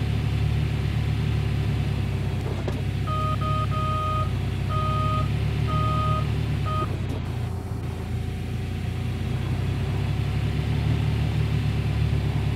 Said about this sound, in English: This is pretty fun doing some dozing